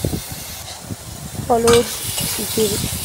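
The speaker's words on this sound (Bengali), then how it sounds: "আবার নাড়াচাড়া করে আলুগুলোকে ভালোভাবে ভেজে নেব" Potatoes sizzle as they fry in a pan and are stirred with a utensil, giving steady crackling and repeated scraping, close and fairly loud, with a brief voice.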